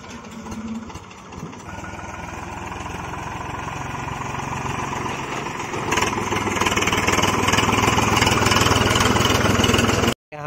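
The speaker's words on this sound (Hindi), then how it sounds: "यहाँ पे थ्रेसर हो गया है स्टार्ट" A groundnut thresher's engine runs loud and steady, a continuous mechanical drone that grows heavier partway through, then cuts off abruptly near the end.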